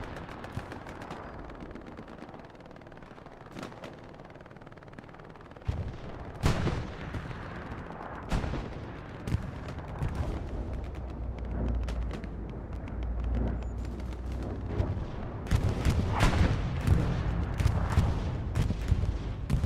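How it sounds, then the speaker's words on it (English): Bomb run explosions in the video game Hell Let Loose, a string of sharp booming blasts that come more densely and loudly in the second half over a rumbling low background. "Bomb run going off ROFS on the main road."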